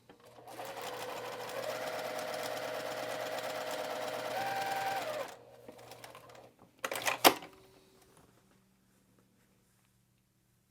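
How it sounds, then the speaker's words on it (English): A sewing machine stitches a test line for about five seconds with a fast, steady mechanical whir close by, then stops, followed by a few clattering handling sounds and quiet. "And then I'm going to do one more stitch line here and see."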